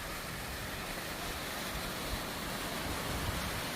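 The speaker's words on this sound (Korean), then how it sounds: "양폭포입니다." Yangpok waterfall on Seoraksan mountain in Korea sends up a constant broadband roar of falling water, steady and fairly soft, with no voices.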